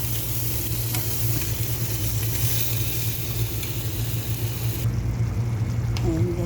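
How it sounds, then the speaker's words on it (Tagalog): Chicken pieces fry in a pan for biryani with a steady, close, dense sizzle and crackle that lasts throughout and only shifts slightly near the end. "Konting prito lang siya guys."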